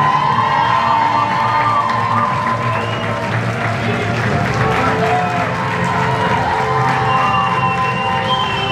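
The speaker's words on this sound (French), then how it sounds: "on applaudit bien fort Marie-Lise" An audience at a Miss and Mister beauty pageant election in France applauds and cheers, dense sustained clapping with shouts and children's voices mixed in, loud and continuous throughout.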